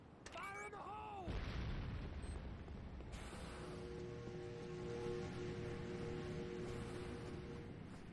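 A C4 charge detonating in the shooter game Renegade, a deep booming blast that rolls out into a long rumble, preceded by brief whining electronic tones and followed by a sustained low mechanical drone.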